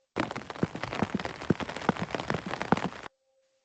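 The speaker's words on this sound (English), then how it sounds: "It started to rain when she was walking to school." Steady rain falls on a surface in a dense, continuous patter with scattered louder drops, fairly close and alone, stopping abruptly near the end.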